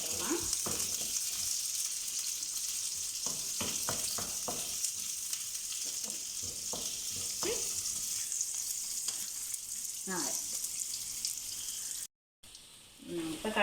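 Ingredients sautéing in hot oil in a pan before onion goes in, producing a continuous bright sizzle with repeated spatula scrapes and clinks, close and steady, briefly cutting out near the end.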